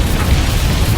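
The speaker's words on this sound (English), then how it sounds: "I'm going to detonate the charges" Detonated charges exploding in the Sine Mora EX video game, a loud, dense, rumbling boom that fills the whole second.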